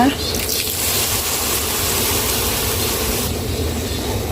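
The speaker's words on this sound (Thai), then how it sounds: "เติมน้ำเล็กน้อยนะคะ" A splash of water poured into a hot pan of beef stir-fry with holy basil, setting off a loud, continuous hissing sizzle close by, with a voice speaking over it.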